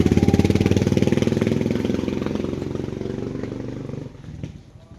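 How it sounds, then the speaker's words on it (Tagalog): A motorized tricycle's engine runs close by with a steady, throbbing mid-pitched idle that holds loud for several seconds, then drops away and fades near the end. "Ito yung halos yung tricycle."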